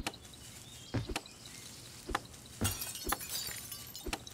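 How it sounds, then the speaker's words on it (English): Distant glass shattering in an indie survival video game, several sharp crashes and tinkling breaks spread over a few seconds amid a hissy ambient background. "Somebody broke some glass off in the distance."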